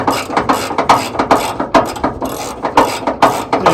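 A ratchet tightens a fender bolt on a 1978 Chevy C10, its pawl clicking in a steady back-and-forth rhythm of close, loud strokes with no talk.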